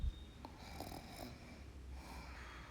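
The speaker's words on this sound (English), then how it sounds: "That soft snore from Ted." Soft, gentle snoring from a sleeping person in a quiet bedroom at night, a few faint breathy snores close by with no talking.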